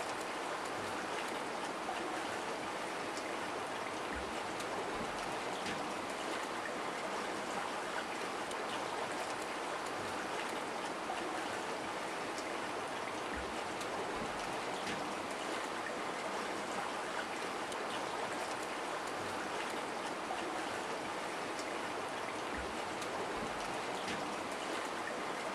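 River current crossed by a mother bear and her cub, a steady, faint rushing and trickling of water that continues evenly throughout, with no voices.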